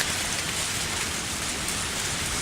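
Rain pours steadily in the video game Lucky Dog 1+ Bad Egg, a dense, continuous hiss of drops with no pauses and no voices.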